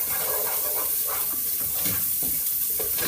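Bacon fries in sunflower oil in a pan, giving a dense, close, continuous crackling sizzle with faint scraping from stirring and no talking.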